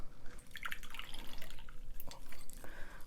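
Lemon juice from half a lemon is poured into a bar jigger while a highball is built, heard as close, light dripping and trickling liquid in short bursts with faint background clatter.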